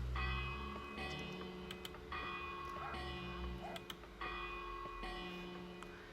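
A bell at a small memorial chapel tucked into a mountainside rings three times at an even, unhurried pace, each strike clear and resonant, with a long shimmering decay between strikes.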